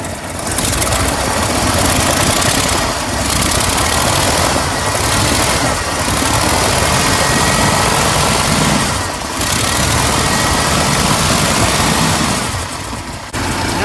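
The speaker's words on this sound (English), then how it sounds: "let's see if we rev it up if it goes better" A Ford F100 pickup engine, just back running after fuel system and filter work, roars loudly and steadily up close, holding a raised, revved pitch with brief dips, and no one speaks.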